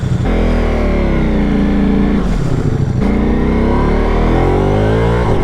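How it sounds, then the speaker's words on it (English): Ducati Multistrada V4 Pikes Peak motorcycle with dry clutch and Akrapovic full exhaust, loud and close, its engine revving steadily with rising and falling pitch and two brief dips, no voices. "now we're going to have a go with the dry clutch and the full system"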